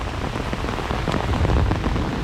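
Heavy rain pours down during a thunderstorm in a rural yard, a dense, steady patter close by with a faint low rumble underneath. No voices are heard.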